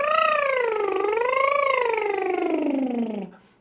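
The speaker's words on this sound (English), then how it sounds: "The other one you can do is a raspberry." A raspberry blown as a voice exercise, with buzzing lips carrying a sung tone that waves up and down in pitch before sliding lower and cutting off, close and alone.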